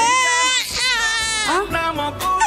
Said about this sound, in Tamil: ஏய் பாப்பா அழுகுறா பாரு, கொஞ்சம் தொட்டிலாட்டி விடு